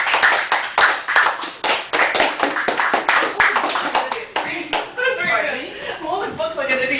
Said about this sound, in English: I'm holding books like an idiot trying to clap.